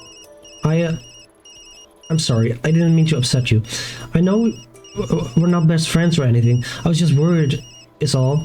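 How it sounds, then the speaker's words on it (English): A mobile phone in the video game Tokyo Dark rings with a repeated electronic tone pattern in the background while a voice speaks over it throughout. "That's my phone."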